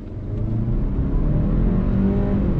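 2022 Hyundai Santa Cruz pulling hard on throttle in sport mode, engine roar building quickly and staying loud and close, with no talking over it.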